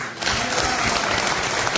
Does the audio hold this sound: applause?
yes